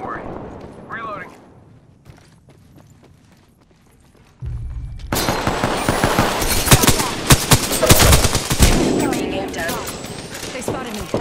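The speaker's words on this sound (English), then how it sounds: "They spotted me. I'm taking shots." Dense automatic weapon fire in the video game Apex Legends: after a quieter stretch, rapid bursts of gunfire start loud and close and continue almost without pause, with voices talking over the shooting.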